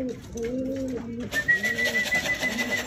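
A racing pigeon just back at its loft after a derby coos nearby, a low repeated throaty rolling call, with a brief high whistle in the background partway through.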